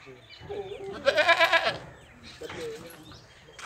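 Goats at a livestock market give a loud, close, wavering bleat midway, with fainter bleats and crowd murmur around it and someone talking over the scene.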